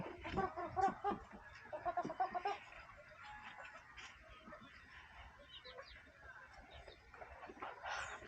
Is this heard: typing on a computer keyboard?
no